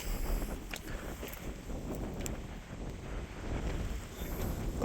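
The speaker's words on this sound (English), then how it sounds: "it is pretty windy up here now." Gusting wind buffets the microphone on a 485-meter mountain peak, a continuous rough rushing that swells and eases, with no voices.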